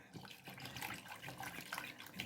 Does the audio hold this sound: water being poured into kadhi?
yes